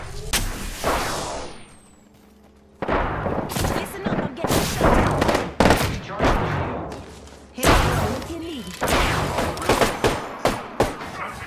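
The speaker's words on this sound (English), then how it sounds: "Somebody shot at me." Gunfire in a shooter video game, a run of sharp, loud shots and heavy bangs in irregular bursts with a short lull, while players talk excitedly over it.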